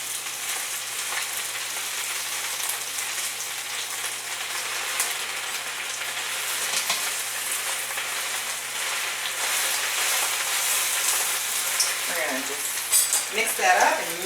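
Spinach and garlic sautéing in a pan while being stirred, a steady close sizzle with scraping and rustling stir movements that grow busier near the end, no voices.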